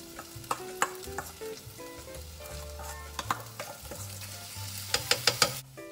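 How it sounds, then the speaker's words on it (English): Laksa paste sizzling in a pan for chicken laksa while a utensil stirs it, a steady close fry broken by sharp scraping clicks and taps against the pan, with no talking. "Stirring continuously, cook it for about 1 minute or until it starts to become fragrant"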